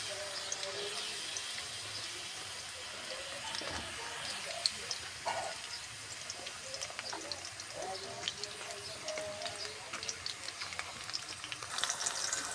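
Capsicum and onions fry in lightly heated oil in a home kitchen, giving a faint, continuous sizzle with small crackles and occasional stirring clinks, heard quietly and close.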